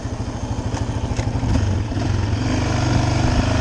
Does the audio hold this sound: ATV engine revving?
yes